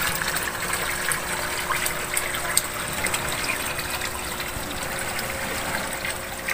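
Steady bubbling and trickling of water from an air pump aerating a tilapia fishpond, a continuous watery hiss with no pauses, moderately close and without speech.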